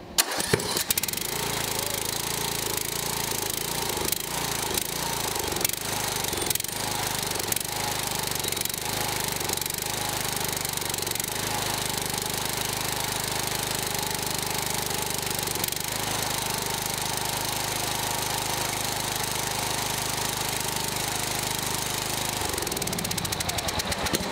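A lawn tractor's swapped-in small engine cranks and catches on fresh gas, then runs loudly and steadily with a rough, chugging rumble for a long stretch before cutting off at the end.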